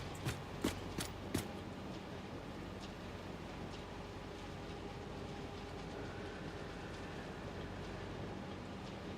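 Train arriving at a station in the video game Satisfactory, with a few sharp clanks at the start and then a steady low rumble of rolling rail cars, quiet and continuous.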